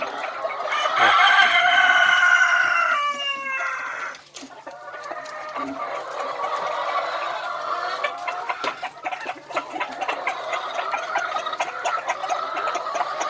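A rooster crows loudly up close, followed by a flock of chickens clucking and squawking continuously, with a few more crowing calls among them.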